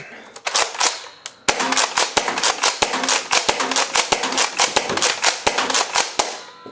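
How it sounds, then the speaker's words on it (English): A Nerf Rival Helios blaster fires foam balls in quick succession, a couple of sharp snaps then a rapid, fairly regular string of loud, close pops. "that concludes our firing demo for the Nerf rival Helios"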